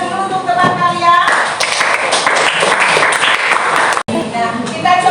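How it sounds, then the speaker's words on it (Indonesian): Classroom students clap for their classmates, a loud burst of applause that starts about a second in, with a teacher speaking over and before it and a short break near the end. "Tepuk tangan dulu untuk teman kalian."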